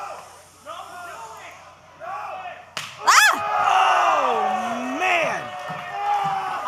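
Sharp chest slaps from chops at a live wrestling event ring out with a loud crack amid a roaring arena crowd, with commentators talking over the action.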